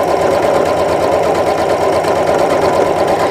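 A sewing machine stitches a galloon design using a free-motion bobbin case set to lighter tension, running as a steady, close, continuous mechanical whir throughout.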